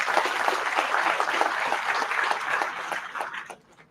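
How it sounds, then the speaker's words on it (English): Audience applause for a guest speaker at an engineering institute's career session, a steady dense wash of clapping that holds evenly before tapering off at the end. "Please give a big round of applause for Ajinkya."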